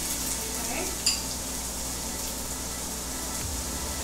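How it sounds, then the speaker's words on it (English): Onions and two cloves of garlic sauté in a little oil in an Instant Pot, a steady close sizzle with a single utensil clink early on and a low scrape near the end. "I have my Instant Pot on Saute, and I have a little bit of oil in there because we're going to brown the onions"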